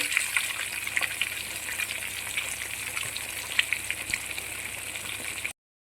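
Karimeen (pearl spot fish) fries in hot oil with a constant, crackling sizzle and occasional pops, fairly quiet and close, ending abruptly in silence.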